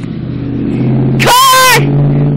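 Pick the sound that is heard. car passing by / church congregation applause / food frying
car passing by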